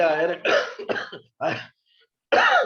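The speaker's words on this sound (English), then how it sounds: "I'm still coughing from this Corona" A few harsh, bursty coughs from a lingering COVID cough come in quick clusters, separated by short silences, close to the microphone.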